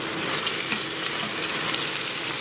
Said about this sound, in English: we're just going to stir this round